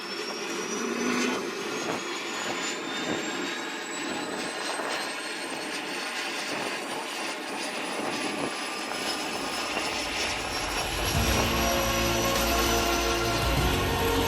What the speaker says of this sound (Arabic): أول ما شغلوا الهليكوبتر كان صوت المحركات وايد غوي